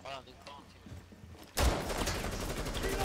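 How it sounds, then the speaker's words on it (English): Gunfire in the Rainbow Six Siege video game breaks out suddenly, a dense burst of rapid shots that continues loudly after a quieter stretch where a player talks. "Oh fuck, we're shooting."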